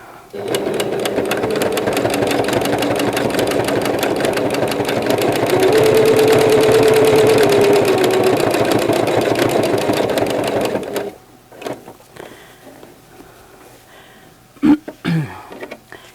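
A sewing machine stitches machine appliqué on a quilted gnome table runner with a rapid, steady whir for about eleven seconds. It then stops, leaving a quiet room with a few small clicks and handling sounds.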